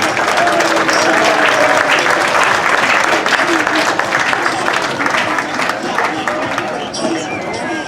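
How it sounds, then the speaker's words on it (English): A large audience at a Philippine Weekend community event breaks into loud, steady applause mixed with crowd murmur, tapering slightly toward the end. "Let's give her a round of applause, ladies and gentlemen."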